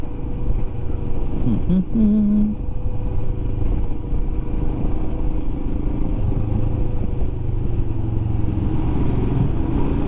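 Royal Enfield Himalayan 410 single-cylinder motorcycle, the 2021 BS4 model, rumbling steadily at close range while riding, with a low throaty drone and a brief shift in pitch partway through.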